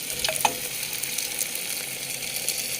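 Pieces of fried chicken going into a pot of biryani, giving off a steady bright sizzle and hiss with a couple of soft knocks near the start, close and uninterrupted.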